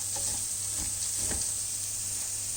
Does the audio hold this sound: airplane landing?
no